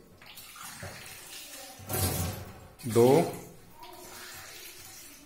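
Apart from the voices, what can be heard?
pouring water by the cup for boiling giloy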